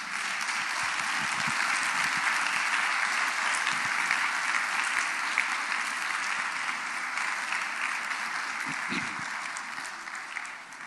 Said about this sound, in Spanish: Ahora sí, dele un aplauso a ese Salvador.